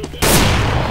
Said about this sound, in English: Somebody's shooting at me, man.